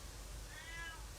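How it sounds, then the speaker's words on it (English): A female house cat lets out a single faint, drawn-out meow rising and falling over a steady background hiss. "she just wakes up and starts meowing"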